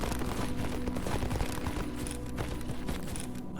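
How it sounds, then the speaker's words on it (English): Gunfire in the video game S.T.A.L.K.E.R. G.A.M.M.A. sounds as rapid, overlapping bursts, fairly distant and muffled, crackling continuously through the moment. "I already hear a lot of gunfire."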